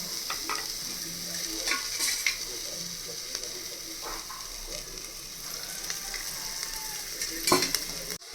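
Browned onions and oil for chicken biryani sizzle gently in a pan, a soft steady frying hiss with intermittent scraping stir strokes, fairly quiet and close.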